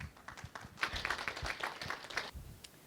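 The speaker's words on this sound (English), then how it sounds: "give her a big round of applause" A room of listeners at a talk gives a faint, scattered round of applause, with light irregular clapping that sounds fairly distant and trails off after a few seconds.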